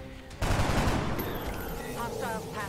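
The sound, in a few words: gunfire from XCOM: Enemy Unknown video game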